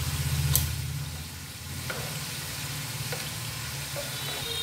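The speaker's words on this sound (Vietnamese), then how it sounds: "mình chiên đến khi nào mình thấy cái miếng chuối nó cứng là được nha. Sau đó lâu mình phải trở mặt cho chuối nè" Green banana slices frying in hot oil, with a steady close sizzle and bubbling throughout, a few soft clinks and scrapes as the slices are stirred and flipped.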